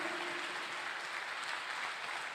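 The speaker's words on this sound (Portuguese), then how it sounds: "Salva de palmas para Jesus, queridos." Steady applause from a church congregation, dense and continuous clapping filling the whole moment with no voices standing out.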